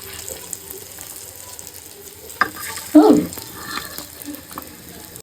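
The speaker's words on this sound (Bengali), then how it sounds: "এখানে মাছ ভাজা হচ্ছে, সুন্দর একটা আওয়াজ আসতেছে, সিজলিং" Fish sizzles as it fries in a pan, giving a steady hiss with occasional spatters, and a brief louder burst of watery crackling near the middle.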